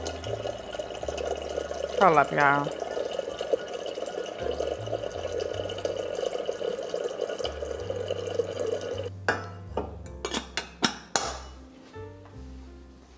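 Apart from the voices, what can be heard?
water filling a container for instant coffee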